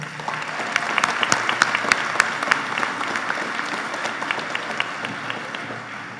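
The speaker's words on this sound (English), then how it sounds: "Let's give them a round of applause, too." An audience applauds seniors at a high school awards night with steady, sustained clapping, a few sharp individual claps standing out near the front across six seconds.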